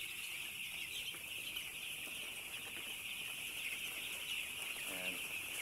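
Chicks and chickens on a farm peep and cluck softly against a constant high insect-like drone, with a short rooster-like call near the end and faint flapping, fairly distant and quiet, with no clear talking.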